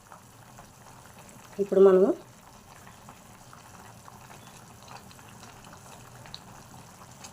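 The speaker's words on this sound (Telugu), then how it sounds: "ఉడుకుతుంది." Sambar made with toor dal boils in a pot, giving a steady, low bubbling that runs throughout. Near the start a voice speaks a short phrase over it.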